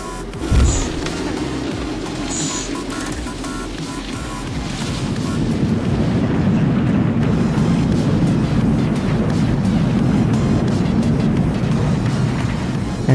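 A steady, loud roar of left and right aircraft engines in the air traffic control game Unmatched ATC, heard from the cockpit view, rumbles low and constant, swelling slightly partway through, with a broad whooshing wash over it.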